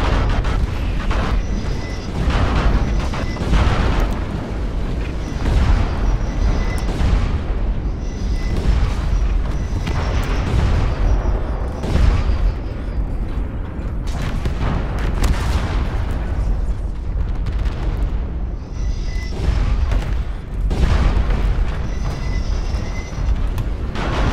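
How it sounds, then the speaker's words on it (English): Artillery strike explosions in the MechWarrior Online video game, a dense, loud barrage of repeated booms and rumbling blasts rolling on continuously with no talk. "They dropped a very smart artillery strike on us."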